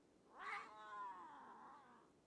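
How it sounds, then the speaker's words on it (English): A cat in a video game lets out a single drawn-out, wailing meow that rises quickly and then trails off slowly, faint and alone. "That's 1 cat. Nope, sorry, 2 cats."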